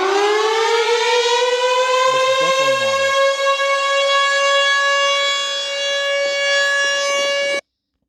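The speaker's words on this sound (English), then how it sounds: "this here does not sound like a 1000T. This sounds like a 1000, the original 1000 tornado siren, the first ever Thunderbolt" A Thunderbolt 1000 tornado siren in Ohio sounds one loud sustained wail that rises briefly at the start, holds steady, then cuts off abruptly near the end.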